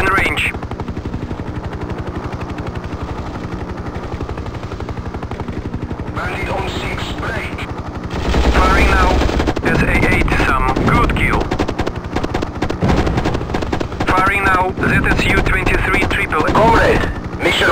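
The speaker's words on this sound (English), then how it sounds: "Navigation mode, turret gun armed. Firing now." Helicopter turret gun firing in the 1998 video game Hind, rapid loud bursts of automatic fire over a constant rotor drone, with radio-style voices talking throughout.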